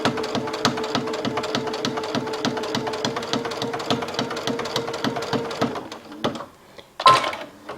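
A sewing machine stitches a seam in a steady, rapid run of mechanical needle clicks and motor hum, close and loud, stopping near the end with a couple of brief handling knocks.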